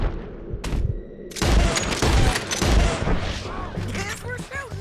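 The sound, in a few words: gunfire in video game Red Dead Redemption 2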